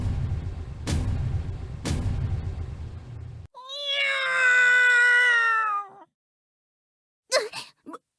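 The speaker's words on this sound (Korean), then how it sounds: "이 고양이 소리는... 설마 반란군 녀석들의 고양이 로봇이 여기도 있는 건가?" A cat meows in the video game Trickcal Revive: a long, clear, wavering meow stands alone and loud after two sharp thuds, followed by a shorter meow-like burst.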